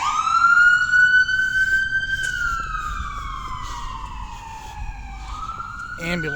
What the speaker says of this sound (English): Ambulance went by.